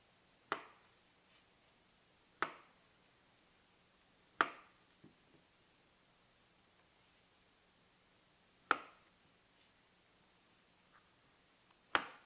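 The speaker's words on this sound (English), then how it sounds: "we're going to cut them vertically" A knife cutting bananas lengthwise on a board, heard as five sharp, isolated clicks spaced a couple of seconds apart against near silence.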